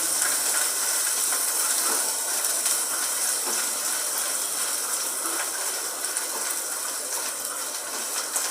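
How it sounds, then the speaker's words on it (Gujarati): Garlic sautés in a pan over a medium flame, a steady, loud, continuous sizzling hiss with no voices over it. "અને મીડિયમ ફ્લેમ પર સાંતળવાનું છે લસણને"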